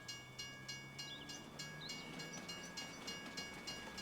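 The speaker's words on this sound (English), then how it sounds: "A very long train," Very long freight train passing on a straight track in Farming Simulator 25, Montana plains map; evenly spaced clickety-clack wheel beats over a low steady rumble, with faint bird calls in the background.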